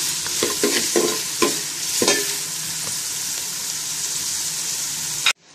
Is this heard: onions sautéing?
yes